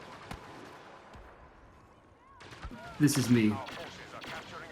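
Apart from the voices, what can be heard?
blaster gunfire and explosions in Star Wars Battlefront video game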